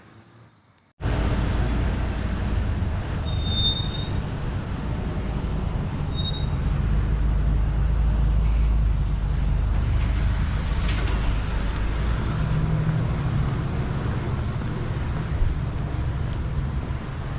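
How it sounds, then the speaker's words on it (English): A WRTA number 27 Austintown Loop city bus rolls past with a steady, loud broadband engine and road roar that begins abruptly and holds throughout, close by amid outdoor traffic noise. "And there goes the number 27 Austintown Loop bus."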